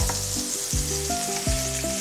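Chopped onion and carrot sizzle steadily in a hot pan, with a loud, continuous frying hiss and a few stirring scrapes, close up and with no voices.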